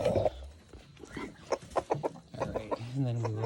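Small farm chickens cluck and chatter close by on the ground, short bursts and a drawn-out warbling call coming one after another, with nobody talking.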